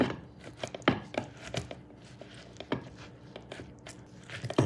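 Mofongo of mashed plantain with pork and bacon being pounded and mixed with butter, giving a run of irregular dull thuds and squishy knocks, close and fairly soft.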